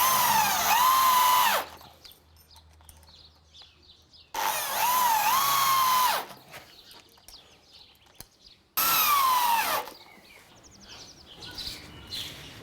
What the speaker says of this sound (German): Auch hier wird wieder geschraubt.